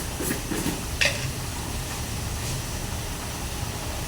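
Pumpkin curry simmering in a pan after coconut milk, cumin and pepper go in, a soft continuous bubbling hiss with a few light stirring clinks, close and steady with no voices.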